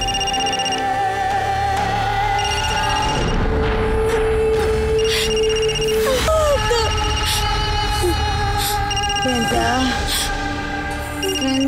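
In a Telugu crime drama scene, a telephone rings on and off under background music and a low boom. People talk over it.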